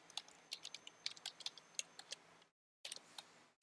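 Computer keyboard typing while entering a spreadsheet IF formula, a close, quiet run of quick irregular key clicks that stops briefly near the end, then resumes with a few more taps.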